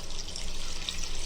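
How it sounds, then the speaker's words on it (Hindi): Water is poured into a cooking pot holding mutton, a spice pouch and pulao ingredients, giving a steady splashing gush that continues without pause over the short stretch, with no talking. "3 गिलास पानी इसमें डालेंगे।"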